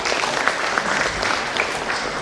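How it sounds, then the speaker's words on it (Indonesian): Audience applause at a stand-up comedy event, a dense, steady burst of clapping from a crowd that fills the whole short stretch without talk. "Boleh tepuk tangan untuk OJK."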